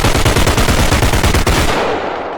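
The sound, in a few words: machine gun gunfire in video game Body Cam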